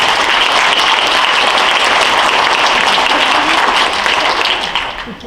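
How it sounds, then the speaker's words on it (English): An audience at a country music singing show applauds loudly and steadily, a dense wash of clapping that holds for several seconds before tapering off at the close. "let's give a round of applause to all of our sponsors."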